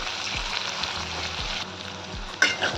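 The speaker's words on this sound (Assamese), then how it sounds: "তেলখিনি হাই ফ্লেমত গৰম হ'লে ইয়াতে দি দিম গৰম মছলা আৰু তেজপাত।" Crushed garam masala of clove, cardamom and cinnamon sizzles with bay leaves in oil on a high flame. The frying is loud and close and steady, with a few stirring scrapes near the end.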